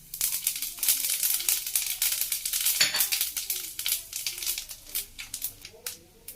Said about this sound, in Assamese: তেল গৰম হোৱাত মই এতিয়া এইখিনি শুকান জলকীয়া কালজিৰা আৰু চফখিনি দি দিম